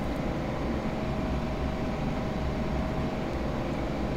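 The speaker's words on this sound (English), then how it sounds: "Nice sound from that 6-cylinder twin turbocharged Continental engine." A Lancair with a six-cylinder twin-turbocharged Continental engine cruises in a flight simulator game, giving a steady, unbroken engine drone at even loudness throughout.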